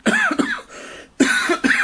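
A person coughs several times in harsh, close bursts, a brief pause splitting two clusters of coughs.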